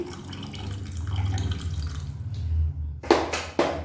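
Water soaked with rice is poured into a cooking pot for masala rice, a steady splashing pour that runs for a few seconds, then breaks off into a couple of short final splashes.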